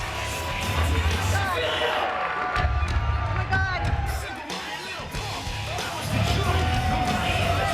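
A wrestling arena crowd cheers and yells for Sting's return to the ring at a TNA event, a loud roaring swell with whoops, while commentators talk over it.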